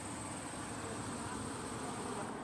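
A small bee buzzes steadily while crawling on a hand outdoors on an Amish farm, a faint continuous drone without speech.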